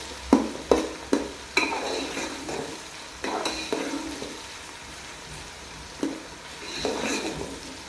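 Onions browning over low heat in a white karahi while a spoon stirs them, giving a soft steady sizzle broken by several sharp scraping clinks of utensil against the pan, close and without speech.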